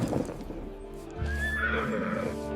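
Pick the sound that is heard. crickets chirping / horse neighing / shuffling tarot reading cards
horse neighing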